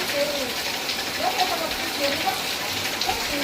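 Steady rain falls outdoors during a monsoon-day outing with a pet dog, a continuous close hiss of drops throughout, with faint voice-like tones rising briefly above it.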